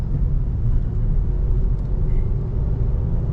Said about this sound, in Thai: เสียงเครื่องอาจจะดังนิดนึง